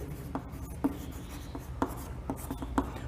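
Chalk or marker writing a definition on a classroom board, faint irregular taps and short strokes against a quiet room hum, with no talking.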